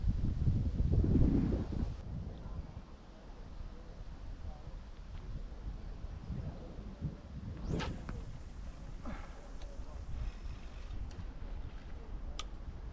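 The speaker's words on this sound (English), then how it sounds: "Might have to wait until that wind dies down a touch." Wind gusts across a fishery bank and buffet the microphone with a steady low rumble. A few faint ticks and rustles sit over it, with a stronger gust near the start.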